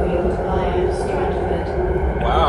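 A recorded onboard announcement plays inside an Elizabeth Line train, a steady voice over the low rumble of the moving carriage.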